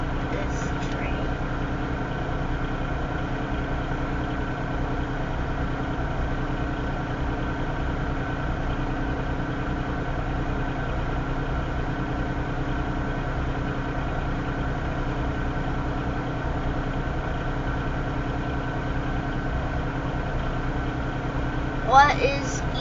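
A southbound Union Pacific stack train led by a Norfolk Southern locomotive sits idling near Elkhart, Iowa, its diesel engine droning in a steady, even low rumble that stays constant throughout, with a small clunk near the end.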